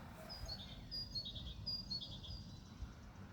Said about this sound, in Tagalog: Pakinggan niyo ang ibon.